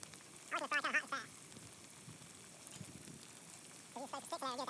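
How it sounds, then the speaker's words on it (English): Oil sizzles and crackles continuously as snakehead fish fries hot and fast over an open wood fire, while someone talks briefly at the start and again near the end. "I think it's frying good."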